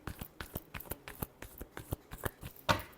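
Tarot cards being shuffled by hand in a quick run of soft riffling snaps, close and fairly quiet, ending in a slightly sharper final slap of the deck.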